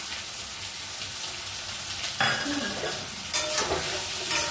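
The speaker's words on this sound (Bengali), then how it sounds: "আমি কাজু কিশমিশটা এর মধ্যে দিয়ে দেবো। দুটো একসাথে ভাজা করবো।" Cashews and raisins fry together in a pan, a steady close sizzle with scraping stirs that grow louder and busier after a couple of seconds.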